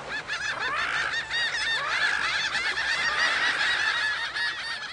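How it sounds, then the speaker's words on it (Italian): A large flock of white seabirds honks and squawks continuously, many harsh overlapping calls at moderate distance. "I pennuti gracchiavano sfacciati."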